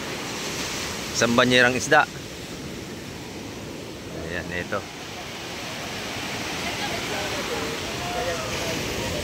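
Steady rushing surf at the fish terminal in Tanza, Cavite fills the background throughout, with two short bursts of someone talking near the start and middle.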